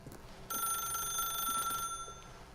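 A telephone in The Stanley Parable video game rings with a bright electronic trill that starts abruptly, holds for over a second, then stops, fairly clear and alone.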